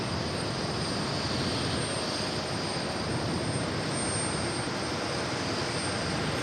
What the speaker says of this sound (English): we'll see this Kenya Airways 787 Dreamliner also take off. Runway 4 left, swift takeoff